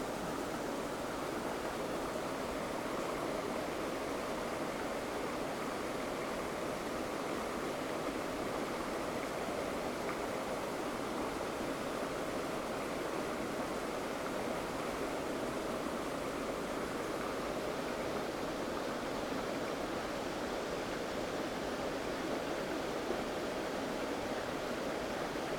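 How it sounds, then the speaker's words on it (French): A river rushes steadily for the whole stretch, a dense, even wash of flowing water with no voices over it. "je vais essayer de vous filmer un peu la rivière et de vous montrer cela"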